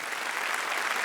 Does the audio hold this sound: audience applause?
yes